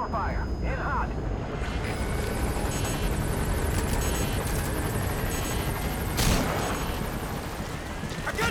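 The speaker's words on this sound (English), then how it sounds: "The chopper." A helicopter in the video game Metal Gear Solid V thrums on loudly under dense game effects, with a burst of impact-like noise partway through and voices mixed in.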